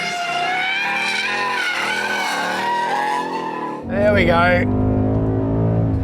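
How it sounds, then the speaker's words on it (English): A Ford Mustang GT V8 on a racetrack revs hard with a loud, rising engine howl, then drops to a deep, rumbling lower note after a gear change. Someone speaks briefly over the sound. "Proper muscle car noise."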